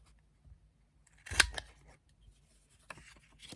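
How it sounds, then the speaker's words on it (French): A corner punch snaps through decorative paper in one crisp, close clunk, followed by faint rustling and handling noises in a quiet room. "Donc bien mettre ici coin, dans le coin, et on punch."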